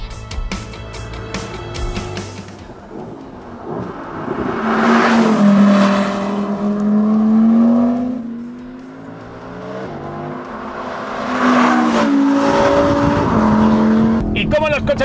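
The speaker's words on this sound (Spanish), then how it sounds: "este R8 Performance vuela tanto en las rectas como también en las curvas" Audi R8 Performance 2023 driving fast, its engine rising and falling in two long loud acceleration sweeps with gear-change breaks, with a voice talking over it.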